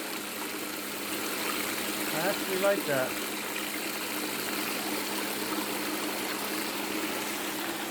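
Water rushes steadily through a homemade highbanker sluise, a continuous broad hiss of flow and spray over a low pump drone, with a brief spoken comment near the middle.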